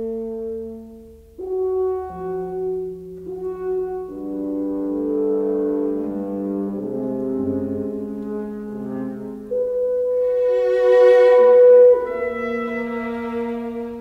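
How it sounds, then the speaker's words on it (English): Two horns open Webern's Symphony Op. 21 with sparse, soft sustained notes that step downward one after another in a quiet, hall-like space. "the beginning with the two horns dipping down from a cliff"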